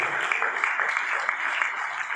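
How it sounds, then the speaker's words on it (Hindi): Audience applause at an event in a stadium in New Delhi, a steady dense patter of clapping at moderate volume with no voices over it. "तो एक जोरदार तालियां होनी चाहिए।"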